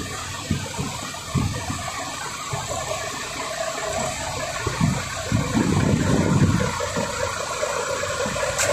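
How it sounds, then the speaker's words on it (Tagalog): Steady rumbling noise of several truck engines running, with a broad, churning wash of sound, growing a little louder midway, no voices. "Maingay ang mga makina ng truck dahil umaandar lahat ng truck dito."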